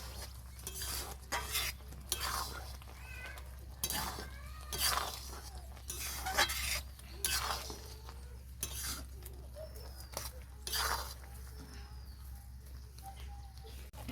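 Kul (jujube) pickle cooking in a pan in a village kitchen, stirred with a utensil that scrapes and clinks against the metal in irregular bursts, with faint birds and farm animals in the background.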